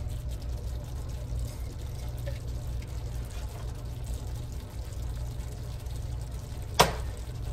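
A cup and a quarter of water is poured into a pot of Hungarian goulash, making a steady low gurgling pour that lasts several seconds, with one brief sharp clink near the end and no talk.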